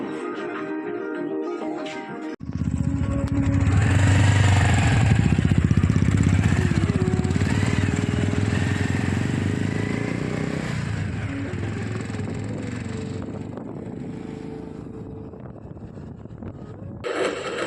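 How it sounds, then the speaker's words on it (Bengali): Royal Enfield Bullet 350 and Bajaj Avenger 160 motorcycles riding on an early-morning road, a loud steady engine drone with wind rush that swells in after a couple of seconds and holds before cutting off near the end. "সঙ্গে ছিল গৌতমদার বুলেট ছিল 350 সিসি, আমার অ্যাভেঞ্জার 160।"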